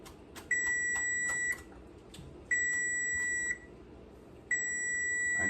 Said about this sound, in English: that was my timer for the produce